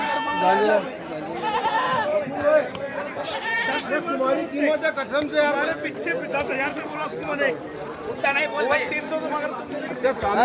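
Sirohi, Sojat and Kathiawari goats bleat repeatedly amid a crowded livestock market, their calls overlapping with people talking and chattering nearby throughout.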